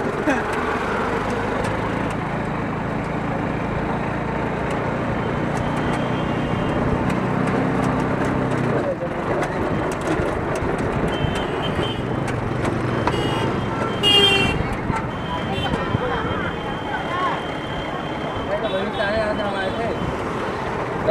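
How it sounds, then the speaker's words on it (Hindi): Steady, loud road traffic on the route from Delhi to Mathura, with vehicles passing continuously, engine rumble and an occasional horn toot, and voices talking over it. "सारी सारी गाड़ी आ रही है देखो"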